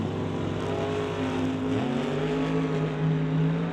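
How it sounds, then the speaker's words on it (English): A Camaro doorslammer drag race car launches and pulls hard down the strip, its engine note climbing in a loud, continuous roar. "Here comes the Camaro looking for a big top-end charge as they get to the stripe."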